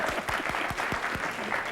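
A studio audience at a 1999 late-night talk show, the Mike Bullard Show, applauds with brisk, dense clapping throughout.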